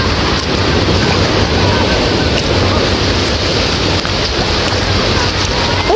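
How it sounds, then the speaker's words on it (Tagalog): Constant roaring wash of big ocean waves crashing on a beach, with heavy wind buffeting the microphone, loud and unbroken throughout. "Ang lalaki ng alon oh."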